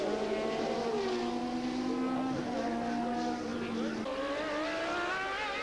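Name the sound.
racing cars at Mondello Park, EuroBOSS 1999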